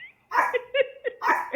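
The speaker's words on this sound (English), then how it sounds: "now the dog is barking" Dog barking indoors at home after a doorbell, several quick close barks in an uneven burst.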